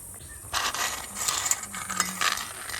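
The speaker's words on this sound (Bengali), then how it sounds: "এখন কিন্তু আমি মৌরিটা গুঁড়ো করে নিচ্ছি।" Fennel seeds being ground into powder in a home kitchen, a steady mechanical grinding whir with gritty rattling that starts after a brief quiet moment and continues alone at moderate level.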